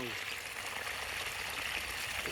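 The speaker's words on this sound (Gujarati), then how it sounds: "જો પાણી મોટર શરૂ કરી દીધી છે અહીંયા, અહીંયા પાણી આવ્યું છે" Water from a farm's motor-driven pump pours and splashes in a steady, loud, broadband rush that stays even throughout, with no voices.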